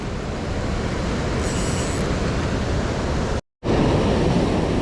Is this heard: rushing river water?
yes